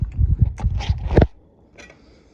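Close, crunchy chewing of aged dried salt cod with toast bread, a quick run of dry bites and crackles for about a second, then near silence with one faint scrape.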